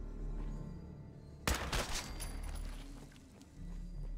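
Combat rifle fire in Fallout 4: a sudden loud burst of several rapid shots, followed by a few lighter bangs and mechanical clatter over a low ambient game hum.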